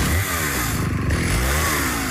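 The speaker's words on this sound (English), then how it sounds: "How is Husqvarna chainsaw durable and at the same time lightweight?" A Husqvarna XP chainsaw runs steadily and loudly throughout, its harsh two-stroke engine buzz holding a constant pitch with dense rattling texture, close and continuous with no pauses.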